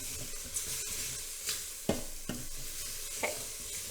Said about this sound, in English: I'm going to mix those in and saute them for about 2 minutes until they turn a little glossy